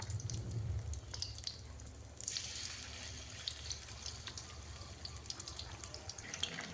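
Chicken breast pieces fry in hot oil until golden, giving a steady close sizzle with scattered sharp pops and crackles throughout, and nobody speaks.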